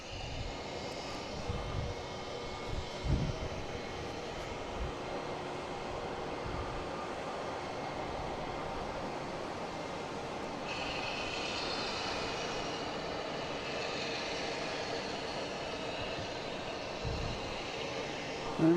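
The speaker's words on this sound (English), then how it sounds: "We have a JetBlue coming in from... Who's JetBlue coming in from Seattle?" A JetBlue jet airliner arriving from Seattle at Boston Logan International Airport gives a faint, distant, steady engine roar that goes on unbroken for the whole stretch.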